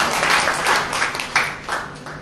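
A church congregation claps together after a sermon line, a steady mid-loud wash of applause lasting a couple of seconds with swelling bursts, close and dense with no speech over it.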